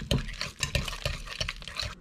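Room-temperature mascarpone cheese and rum are mixed in a bowl for tiramisu, giving a short run of soft rhythmic stirring scrapes and taps, close and fairly quiet, with no talking.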